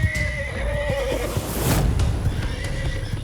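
A horse whinnies loudly and close by, a drawn-out quavering neigh, with hoof clip-clops and rustling around it.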